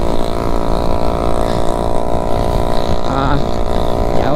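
Jawa Classic motorcycle engine while riding on a monsoon ghat road, a steady loud droning hum with a brief rise in pitch, continuous and close, with no talking.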